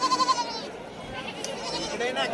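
A goat bleats loudly nearby in a wavering cry at a livestock market in Shirur, Pune district, followed by murmuring voices and background bustle.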